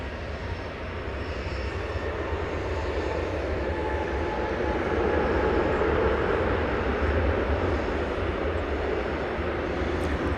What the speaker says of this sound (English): Plane that just landed was coming in from Des Moines, Iowa, flight 2326, American Airlines, an Airbus A319.